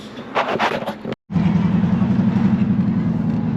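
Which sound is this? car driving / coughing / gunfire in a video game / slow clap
car driving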